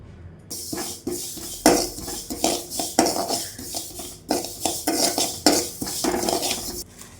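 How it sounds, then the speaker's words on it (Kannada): Sesame seeds roast in a pan over a low flame while a utensil stirs and scrapes them, making a steady close run of rasping strokes and metallic clinks against the pan. "ಈ ಥರ ಕಮ್ಮಿ ಊರಿನಲ್ಲಿ ಎಳ್ಳನ್ನು ಫ್ರೈ ಮಾಡ್ಕೊಳ್ಳೋಣ."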